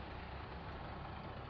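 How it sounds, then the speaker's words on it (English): Water delivery trucks idling in traffic make a steady low diesel rumble, faint and unbroken over its short length, with no voices. "These trucks get by"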